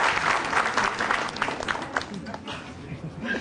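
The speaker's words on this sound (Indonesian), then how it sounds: "langsung aja kita beri tepuk tangan untuk komik selanjutnya ada Cak Lontong" Brief burst of audience applause at a stand-up comedy show, with crowd noise, clapping steady and moderately loud before fading slightly.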